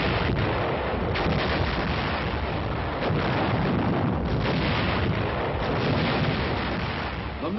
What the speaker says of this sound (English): Charlie Company needs artillery support and gets it.